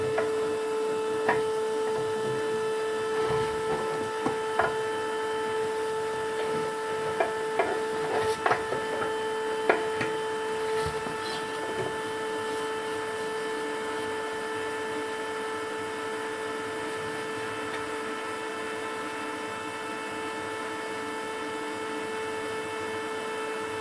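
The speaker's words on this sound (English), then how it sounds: "I'm going to switch my hoover on to a bit of faster speed." A hoover vacuum cleaner running at a faster suction setting while cleaning out a wood burning stove gives a steady, close motor drone with a high tonal whine, and scattered knocks and rattles early on.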